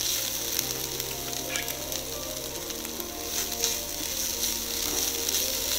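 Grated coconut lightly roasting in a hot pan gives a steady, continuous sizzle and crackle, close and even from start to finish, with no talk.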